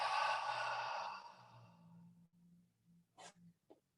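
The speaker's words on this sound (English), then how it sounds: "Exhale out of the mouth." During a yoga session, one long, breathy exhale through the mouth fades over about two seconds, close and soft, followed by quiet room tone with a few faint rustles.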